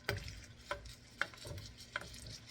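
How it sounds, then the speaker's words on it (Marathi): Green capsicum peppers for stuffing shallow-fry in hot oil with a faint, steady sizzle, broken by a few soft ticks and pops at a slow, irregular pace, with no voices. "ऑइल आपलं गरम झालेलं आहे. आपले ग्रीन पेपर ठेवायचे आहेत ऑइलमध्ये."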